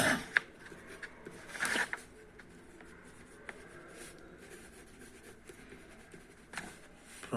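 A pen writing on a notebook page: soft, continuous scratchy strokes with occasional louder taps and rustles of paper, close and quiet, with no talk.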